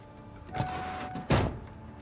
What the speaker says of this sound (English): That's definitely somebody scratching a door.